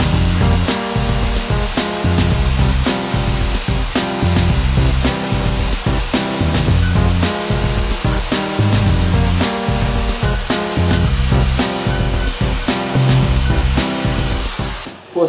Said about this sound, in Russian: Для этого я буду использовать такую небольшую коронку и шуруповерт.